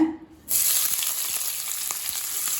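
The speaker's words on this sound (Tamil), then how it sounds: "வெங்காயத்தை நல்லா ஃப்ரை பண்ணிக்கலாங்க." After a brief quiet moment, a loud sizzle of sliced onions hitting hot oil bursts in and keeps crackling steadily close by.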